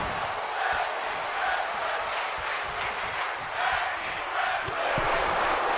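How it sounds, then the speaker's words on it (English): A large arena crowd at WrestleMania in Dallas during a tag team title match, a steady loud roar of many voices with swelling cheers and shouts throughout, no clear speech on top. "And you hear the crowd here in Dallas."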